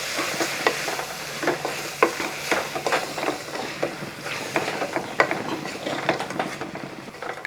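Kashmiri chilli, coriander and turmeric powders fry in a pan for Kerala-style irachi kappa while a spoon stirs them, giving a moderate sizzle with regular scraping strokes and occasional sharper clinks.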